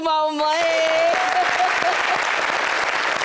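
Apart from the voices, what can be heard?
applause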